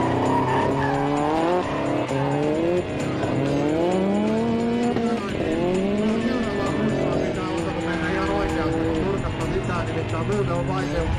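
A Nissan and a Pontiac Trans Am drifting, engines roaring with rising and falling revs and tires squealing continuously, loud and close, with a voice talking over the racket.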